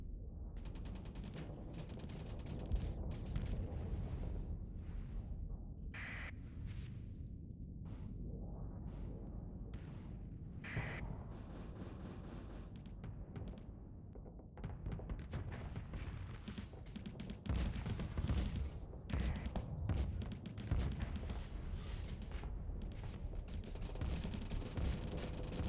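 Ship weapons firing during a space battle in Starsector, a steady barrage of bursts and impacts with sharp louder shots standing out, continuous and fairly quiet overall, growing denser toward the end.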